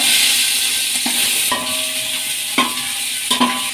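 Onion, green chillies and whole spices frying in oil for a fenugreek pulao, a steady bright sizzle punctuated by several sharp spoon clinks and scrapes against the pan.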